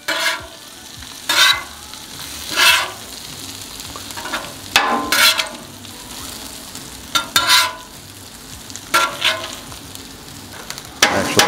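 Bacon and sausages cooking on a Camp Chef Gridiron griddle: a constant sizzle broken by repeated, irregular spatula scrapes and pushes across the flat metal surface, close and fairly loud, with no talking.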